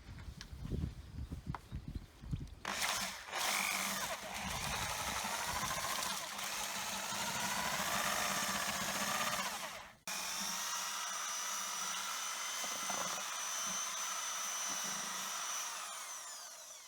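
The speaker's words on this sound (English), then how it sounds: "I ended up changing to a smaller drill head" An electric drill with a mixing head churns paper mass for a crafted ion cannon model, giving a steady, loud whine that stops briefly around the midpoint and then starts again, with no talking.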